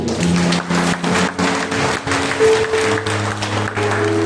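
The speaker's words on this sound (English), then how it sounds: "Let's give a mighty clap." A church congregation claps loudly after a prayer service, a burst of rhythmic clapping with pauses, mixed with sustained tones from music in the background.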